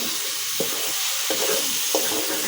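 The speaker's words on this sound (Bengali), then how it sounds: "একটু হালকা কোনো রকম কষিয়ে তারপরে দিয়ে দিচ্ছি ডাঁটা।" Bottle gourd stalks sautéing in a pan, stirred with a wooden spatula: a loud, continuous, hissing sizzle broken by three brief scraping strokes, up close with no voices.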